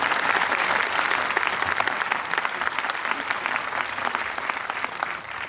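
Sustained audience applause fills a French film preview screening with cast present, a dense, steady wash of many hands clapping close and loud with no voices over it.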